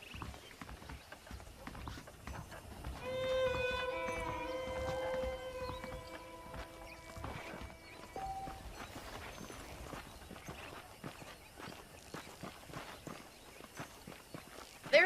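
Horse hooves clip-clop at a walking pace in the Western video game Red Dead Redemption, a steady rhythm of footfalls with in-game music and ambience layered over it.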